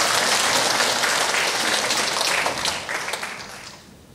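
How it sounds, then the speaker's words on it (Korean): Congregation applauding in a church during a combined worship service, steady dense clapping that fills the space and then thins and fades toward the end. "하나님께 영광의 박수 다시 한번 드립니다."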